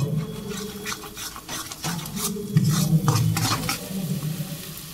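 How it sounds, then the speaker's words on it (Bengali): Two eggs fry together in a pan with a steady close sizzle, broken by clinking and scraping as a utensil stirs against the metal. "দিয়ে দিচ্ছি 2টো ডিম, এবার একসাথে ভালো করে ভেজে নেব।"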